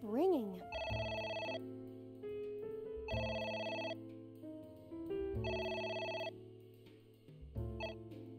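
Electronic telephone ringing inside AI: The Somnium Files, the ring repeating in three long bursts separated by short gaps over a steady background music bed, fairly quiet.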